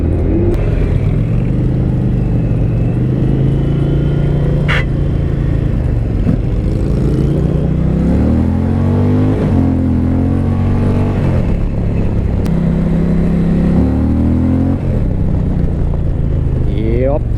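A 2020 Indian Challenger motorcycle accelerates hard, its loud engine note rising through several gear changes in repeated sweeping climbs, close and dominant throughout.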